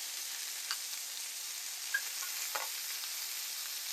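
Sweet and sour meatballs with onion fry in a pan, a steady soft sizzle running throughout while an egg flip and knife roll them over, giving a few light scraping clicks.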